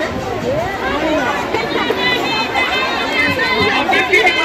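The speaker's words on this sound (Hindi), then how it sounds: "यहाँ पे मुंगेर में भीड़ दिखाना चाहते हैं, कितना ज्यादा हल्ला कितना ज्यादा हो रहा है देखिए" Dense crowd hubbub at the Sita Kund Maghi Purnima fair in Munger, with many overlapping voices chattering loudly and steadily throughout, close and busy without any single voice standing out.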